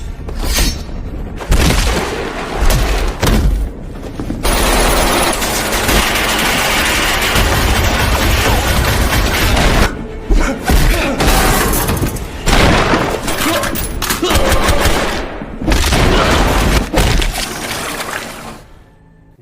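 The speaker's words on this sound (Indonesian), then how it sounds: "semua pasukan langsung menembakinya, yang membuat pertarungan brutal tak terhindarkan lagi" Heavy gunfire from troops in a battle scene, loud booms and rapid bursts crashing almost nonstop, with brief lulls and some shattering debris.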